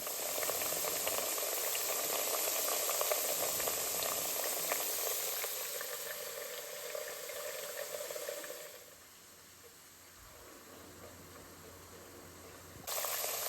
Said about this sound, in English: I'm gonna fry the egg in the same oil.